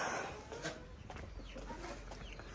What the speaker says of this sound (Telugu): వా పుంజు బాగుంది కదా